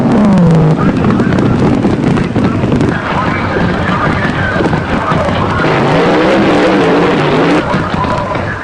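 A drag racing car, from the early days of the sport, streaks down the quarter mile with a loud, sustained engine roar that shifts in pitch, while commentary runs over it.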